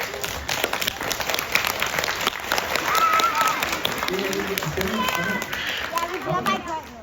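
Young children in an audience at a balloon show clap together, dense continuous applause with excited chatter and shouts mixed in, an adult voice talking over it.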